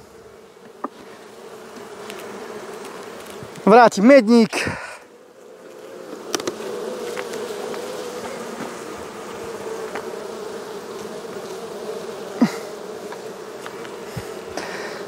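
Honey bees buzz steadily around an open hive while queens are being caged and returned to the colony. A soft, constant drone runs throughout, with a brief louder burst of close buzzing and someone talking quietly.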